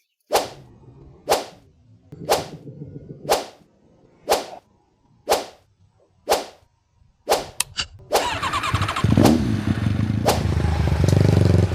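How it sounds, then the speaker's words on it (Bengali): A Suzuki Gixxer SF 250 sport motorcycle on a ride: a regular series of sharp whip-like cracks about a second apart, then a loud, close, steady engine and road roar for the final few seconds. "চলুন একটু চালিয়ে দেখি"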